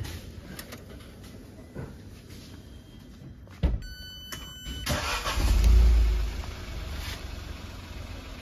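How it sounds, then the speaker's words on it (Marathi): A Citroen BS6 car fitted with a CNG kit starts on petrol: a sharp crank at mid-clip, then the engine catches and swells to a loud idle, with pigeons cooing nearby. "गाडी पेट्रोलवरती स्टार्ट झालेली आहे."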